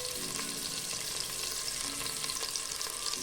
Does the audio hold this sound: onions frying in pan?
yes